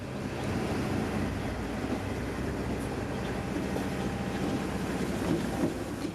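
A Seminole Gulf Railway train crossing a small canal rumbles steadily past at close range in Sarasota, Florida, a continuous loud roar of wheels and engine with a gusty, wind-buffeted texture.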